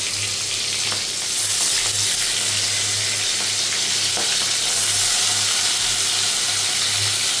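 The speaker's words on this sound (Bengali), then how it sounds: "এদিকে গরম হয়ে গেছে, এখন একে একে মাছগুলোকে ছেড়ে দিলাম।" Fish frying in hot oil in a wok, a loud, steady hiss and crackle that continues throughout, close up with no talking.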